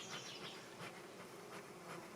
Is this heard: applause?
no